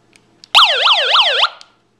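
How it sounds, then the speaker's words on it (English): A short electronic siren from a hand-crank emergency radio wails up and down in quick rising-falling sweeps for about a second, loud and close, then cuts off. "It's got a siren on it."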